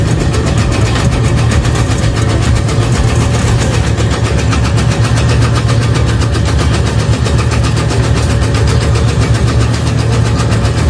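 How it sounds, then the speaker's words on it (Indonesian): Homemade tobacco shredding machine driven by a half-horsepower electric motor runs steadily and loud, a constant mechanical hum with a rapid rattling chatter throughout, no talk. "Mesin dengan dinamo setengah PK."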